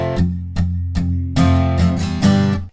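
An acoustic guitar strums the verse chords of a song starting from F, six quick full strums in a syncopated rhythm with the last chord cut short, close and bright with no voice.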